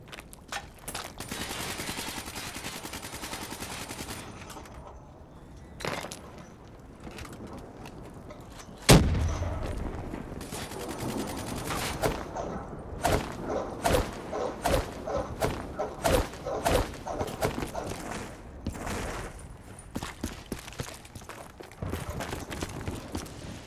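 Repeated gunfire from the Call of Duty Black Ops 3 video game, a busy stream of sharp shots and bursts with a heavy thud near the middle, continuing in irregular clusters throughout.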